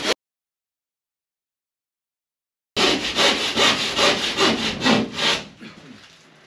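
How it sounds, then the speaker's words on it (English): A cheap handsaw cuts through plasterboard along a marked line, rasping in about ten quick, even back-and-forth strokes, close and clear after a stretch of silence, then trailing off. "we're just going to use this rubbish handsaw, and just like any other time you use a handsaw, just carefully follow the line."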